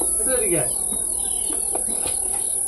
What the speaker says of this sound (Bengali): চারিদিকে কেমন যেন ঝিঝি পোকার ডাক না